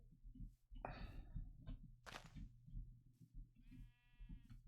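Sheep bleating in the modded Minecraft game: a few short wavering bleats over a low background hum, moderately close, with no talking.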